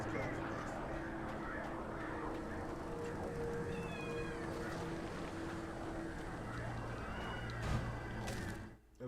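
A cat in the video game Alan Wake gives a few short meows over a low, dense ambient game soundscape, with faint background voices and a droning hum beneath.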